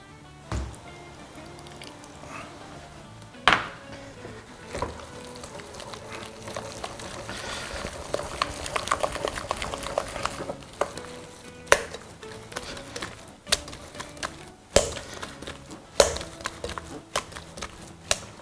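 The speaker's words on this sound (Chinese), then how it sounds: "接下来我们加入姜葱水" Ginger-scallion water poured into sticky minced pork and stirred by hand, producing wet squishing and slapping with sharp intermittent knocks against the bowl, close and alone.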